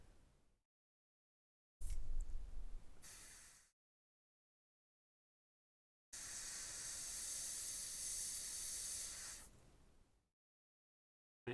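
Airbrush spraying paint onto a miniature base, two hissing bursts: a short loud one followed after a pause by a longer steady spray of about four seconds, each ending abruptly, with quiet gaps between.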